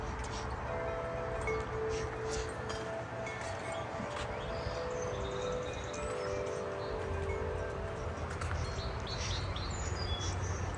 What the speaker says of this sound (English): I hear a song sparrow somewhere too.